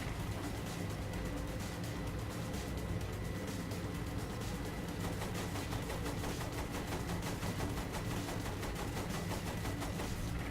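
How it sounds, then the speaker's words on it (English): Sustained machine gun fire in Saints Row: The Third, a dense unbroken rattle of rapid shots over a low rumbling engine drone, loud and continuous throughout with no talking. "Use the machine gun then,"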